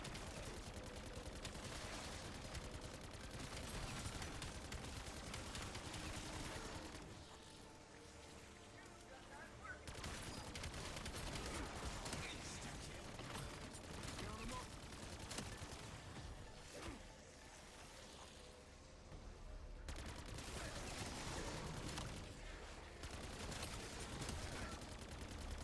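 Pistol shots from a video game fired from the hip crack out in steady, rapid succession for long stretches, broken by brief lulls, loud and close throughout.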